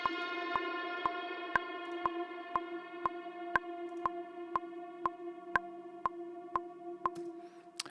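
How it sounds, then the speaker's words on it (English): Impact sound from a Sculpture synth preset in Logic: a sustained, bright tonal drone with evenly spaced sharp hits about twice a second, fading out near the end. "Now, at the beginning, we have this sort of impact sound."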